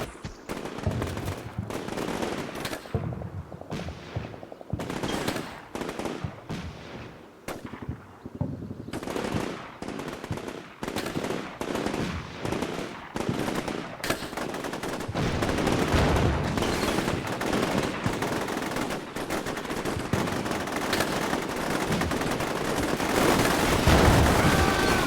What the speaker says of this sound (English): Bullets flying.